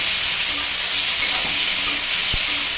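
Vegetables fry in hot oil in a pan, making a steady, loud sizzling hiss that runs throughout, with a faint stir or clink near the end and no talking.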